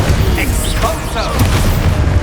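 An Exposo explosion spell in the video game Hogwarts Legacy makes a short, loud booming burst within dense, continuous game sound.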